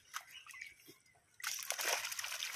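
Live fish such as koi, lata and magur splash and slosh in shallow water as they escape into a pond, with faint trickling giving way to a louder sustained splashing burst.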